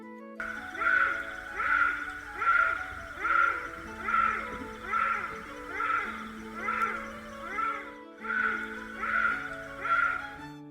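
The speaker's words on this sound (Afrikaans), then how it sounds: "Dit is 'n nagapie." A bushbaby gives a series of repeated wailing, cat-like cries, about a dozen evenly spaced calls in a steady rhythm, with quiet background music beneath.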